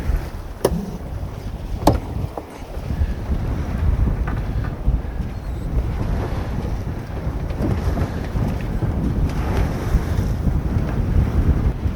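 A small sailboat heads toward the Fier d'Ars off the French Atlantic coast, with strong wind buffeting the microphone, steady hull and water rush beneath, and a couple of sharp knocks early on.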